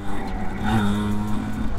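A 1976 Yamaha YB100 two-stroke motorcycle engine runs steadily and close by, a continuous buzzing drone with a faint rising tone partway through, heard alone without talk.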